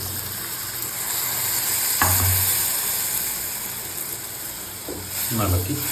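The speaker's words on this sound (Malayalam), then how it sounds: "ആ ഗ്രേവിയിൽ കിടന്ന് അതിങ്ങനെ തിളച്ച് ഇരിക്കുകയാണ്" Steady sizzling and bubbling of fish curry gravy boiling in a pan on the stove, close and continuous, with a few clinks of a spoon stirring.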